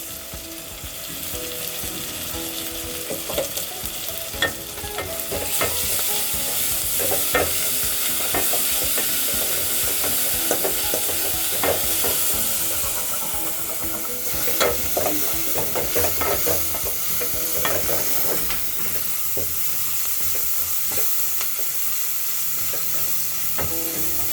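Cumin seeds and bay leaves frying in hot oil for egg biryani, giving a steady loud sizzle with occasional stirring scrapes and pops throughout, without any talk.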